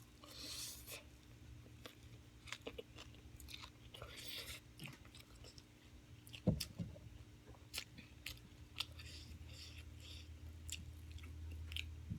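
Close chewing and biting of rice noodles in fermented fish sauce, with soft crunches and mouth sounds continuing through the clip over a low steady background hum.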